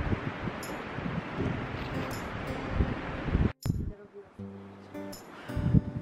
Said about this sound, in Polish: Szumi wiatr, bardzo mocno